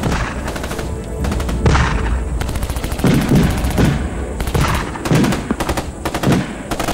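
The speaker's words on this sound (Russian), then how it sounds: "Товарищ лейтенант, справа из-за бугра пушки лупят!" Artillery guns and a machine gun fire in a 2004 Russian war film. Loud bursts of rapid shots and heavier booms come in clusters, separated by short pauses.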